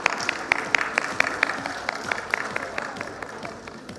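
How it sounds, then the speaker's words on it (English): A conference hall audience at a fintech festival in India claps for a session moderator, a moderate ripple of separate claps that gradually thins out. "let's give a huge round of applause for Mr."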